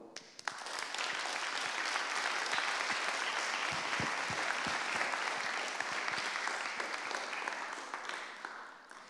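Applause at a film festival opening ceremony honoring young performers, a full, even clapping from a large audience that swells quickly and holds steady, a few distinct claps popping through.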